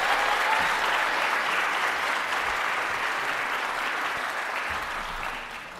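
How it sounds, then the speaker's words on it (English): A university fashion show audience applauds its student designers with steady, dense clapping throughout, gradually fading toward the end. "Round of applause for our student designers."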